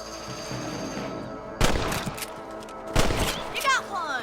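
A couple of sharp rifle shots at rabbits in the game Red Dead Redemption, two distinct cracks a second or so apart over quiet outdoor ambience, with someone speaking in between.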